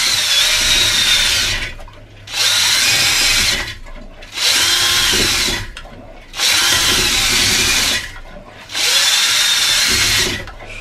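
A power drill spins a homemade brush inside a bottle to scrub its shoulders clean. The whirring motor rises and stops in five bursts of about two seconds each, loud and close, with short pauses between them.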